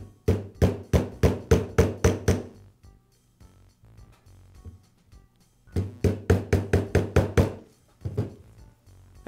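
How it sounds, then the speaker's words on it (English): A mallet taps a socket to seat a self-locking retaining ring on a Milwaukee grease gun during a plunger rod repair: two quick bursts of about eight sharp, evenly spaced knocks, then a few more, close and loud. "I've placed a socket over the retaining ring, and I'll use a mallet to tap it into place."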